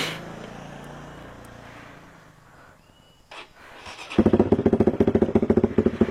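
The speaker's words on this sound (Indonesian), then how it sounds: "jadi untuk idle-nya di sini kayak gini" A motorcycle with a CLD Monster aftermarket exhaust idles with a deep, lumpy rumble, then grows louder and choppier with rapid uneven pulses from the throaty exhaust close by.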